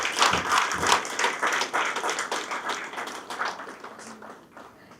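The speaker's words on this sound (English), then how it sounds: "A huge round of applause." Audience clapping at a chamber of commerce anniversary celebration as a former president is acknowledged on stage; moderate applause that gradually thins out and fades toward the end.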